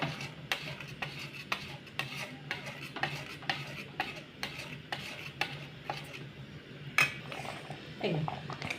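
A spoon scrapes and knocks rhythmically against a pot while sweet mango is stirred with sugar for aam kheer, roughly twice per second and close by, over a faint sizzle.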